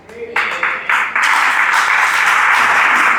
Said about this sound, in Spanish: Si ese aplauso es para el Señor, usted déselo más fuerte.